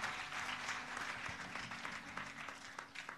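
A congregation at a fasting and prayer church service in Togo applauds, a sustained, dense round of clapping from many hands in a roomy space.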